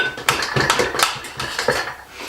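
A spoon spreads pink sauce onto raw mini pizzas made from kohlrabi and beetroot, with a run of scraping clinks and taps against the base and dish, close and fairly loud, and no talking.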